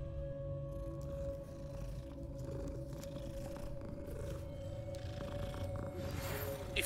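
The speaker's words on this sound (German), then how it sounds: "Katze" A cat in the Hogwarts Legacy video game purrs softly in a low, continuous rumble, faint and steady against a quiet game ambience with a sustained tone.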